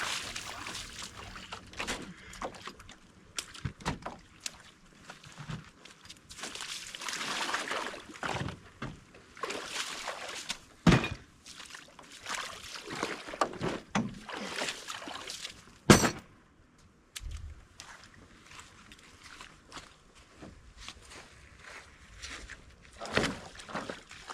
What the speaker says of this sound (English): here I just take each boat out and do kind of a big final loop with the regular canoe paddle